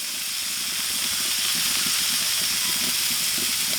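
Thin-shaved steak searing on a hot griddle for Philly cheesesteaks, giving a steady, close hiss and sizzle that holds evenly throughout with no talking over it.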